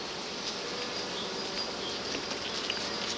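Honeybees at an opened hive being checked, with a brush disturbing them: a steady, fairly faint buzzing hum of many insects, with a few individual bees whining closer by.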